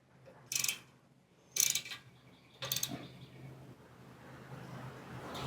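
Three short metallic ratcheting bursts, about a second apart, as a wrench tightens the 8mm bottom bolts on a Go Power Sports Rascal GT Cruiser mobility scooter. A quiet, low background hum follows.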